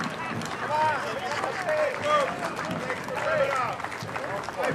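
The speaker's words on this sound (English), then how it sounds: "Just like Tinkerbell, he needs applause to keep him alive." Crowd applause and cheering at a Memorial Day parade fill the space, with voices and whoops mixed into steady clapping.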